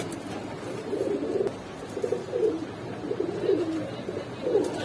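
Giribaz pigeons, a pair among birds offered for sale, coo in repeated low rolling phrases close by, several coos in succession over a quiet background with no speech.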